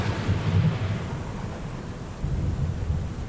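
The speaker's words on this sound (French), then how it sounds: "Il se mit à pleuvoir sur la terre." Heavy rain pours steadily with deep rolling thunder during a downpour that begins a great flood, loud and continuous, swelling near the start and again toward the end, with no voices.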